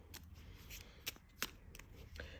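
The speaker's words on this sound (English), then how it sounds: "I'm going to shuffle the cards" Playing cards are shuffled quietly at close range, with soft riffling bursts and a few sharper snaps breaking through a faint, low background.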